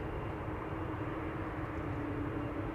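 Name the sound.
Embraer jet aircraft at Amsterdam Schiphol Airport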